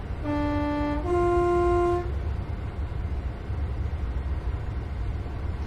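Two-tone horn of a Class 314 electric train sounding from the cab, a lower note then a higher one, each about a second, loud and close over steady rumbling cab noise.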